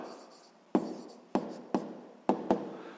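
A pen writes on paper during a math exercise, giving five crisp scratchy strokes at uneven intervals, close and clear against quiet surroundings.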